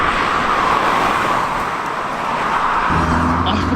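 Road and engine noise from inside a Mark III Ford Fiesta RS with 400 bhp and rear-wheel drive on the move, a steady loud drone with tyre roar and a low engine note rising near the end.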